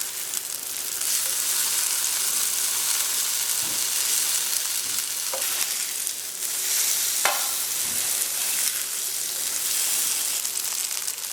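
Black bean burgers frying in a pan for a vegan recipe, a steady close sizzle and crackle running throughout with a couple of brief sharper spits and scrapes, no voices.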